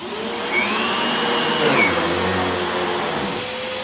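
A Riccar R30 Pet upright vacuum cleaner runs steadily with a loud, continuous motor whine and brush roll hum, its pitch wavering slightly as it picks up debris from the floor, with no talking.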